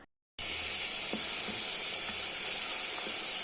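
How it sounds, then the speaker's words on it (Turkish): Onions sizzle in hot oil in a pan, a steady close, bright hiss that starts abruptly after a moment of silence and holds evenly throughout. "Soğanımız kavruldu arkadaşlar."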